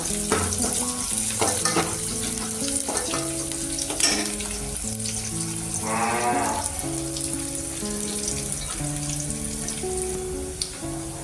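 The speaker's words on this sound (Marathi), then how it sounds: "कांदा थोडासा लाल कलर येईपर्यंत आपण छान परतून घ्यायचा" Chopped onion sizzles and sautés in a pan, stirred with occasional scrapes and taps, close and steady over a sustained tonal hum in the background.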